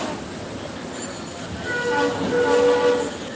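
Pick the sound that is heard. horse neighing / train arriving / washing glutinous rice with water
train arriving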